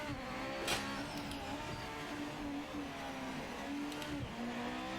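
Race car in the racing video game Project Motor Racing accelerating from the start, a steady simulated engine drone rising in pitch with a gear change, close and continuous with no talk.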